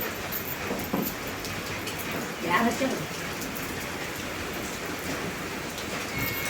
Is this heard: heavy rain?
yes